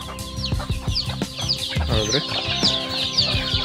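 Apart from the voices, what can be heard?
chickens clucking as they come when called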